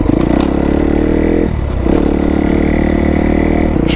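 A used cross/enduro dirt bike's engine runs loud and close, revving steadily with a brief dip as the rider shifts gear, then pulls on again.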